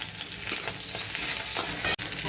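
Chopped ginger, garlic and green chilli fry in hot oil for chilli soyabean, making a loud, steady crackling sizzle with spoon scrapes and a sharp clatter near the end, without speech.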